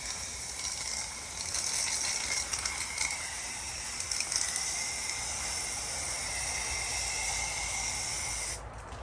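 Steady hissing spray from a spray bottle misting water onto coleus cuttings runs throughout at close range, with faint mechanical clicks mixed in, stopping abruptly near the end.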